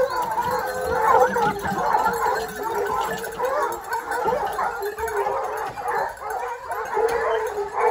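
A pack of hunting hounds bays and howls while running a wild boar trail. Many overlapping yelps and howls come from a middle distance and carry on without a break.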